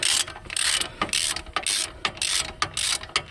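Ratchet wrench working loose the last wheel bearing bolt on the passenger side of a Chevrolet Trailblazer, a close, steady run of quick metallic clicks broken into short bursts with brief pauses, no voices.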